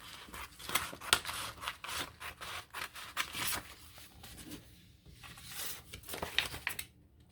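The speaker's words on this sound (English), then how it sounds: "I'm just going to trim this off." Scissors snip and cut through a paper junk mail envelope in a quiet room, a run of close, crisp cuts with faint paper rustle between them.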